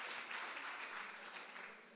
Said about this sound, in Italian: un applauso a tutti quelli che hanno partecipato